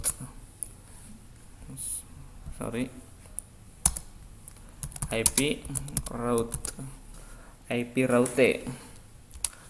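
Computer keyboard typing a Cisco router command, bursts of quick clicking keystrokes with pauses between, while someone talks over parts of it.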